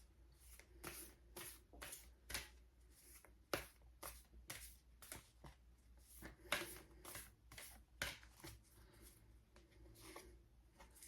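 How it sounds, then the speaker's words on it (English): Oracle cards are shuffled repeatedly by hand, a quick series of crisp riffling flicks in an uneven rhythm, close and fairly quiet. "I will give a few quick shuffles and see what pops out."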